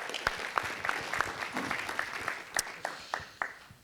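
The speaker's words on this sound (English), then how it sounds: "Please give him a nice round of applause." A city council meeting audience in Las Vegas claps for an honoree at the podium, a modest, fairly distant round of applause with distinct individual claps standing out.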